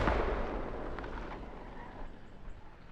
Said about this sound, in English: they're shooting me from southwest